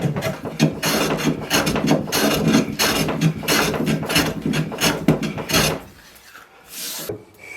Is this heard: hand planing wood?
yes